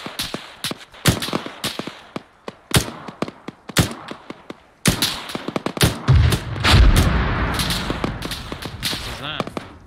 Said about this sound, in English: That was, I think, mortar.